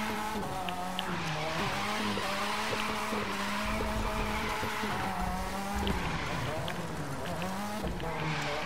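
Mazda RX-7 FD drifting in The Crew 2, its engine note wavering steadily while tires squeal through a long continuous slide, loud and close with no break for the full run.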